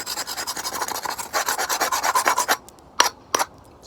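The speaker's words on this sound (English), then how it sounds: "So anything that's got the expanding foam on it, we can either use a rub brick" A rub brick scraping dried expanding foam off brickwork, a fast rhythmic series of close, gritty rasping strokes, then a pause and two sharper isolated scrapes.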